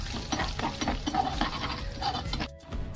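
Curry leaves, asafoetida and turmeric tempering in oil over low heat for a potato bhaji, with soft continuous sizzling and a spoon scraping and stirring through it, close and steady.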